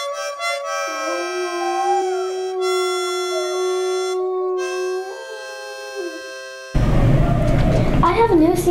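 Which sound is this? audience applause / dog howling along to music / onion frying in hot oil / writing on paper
dog howling along to music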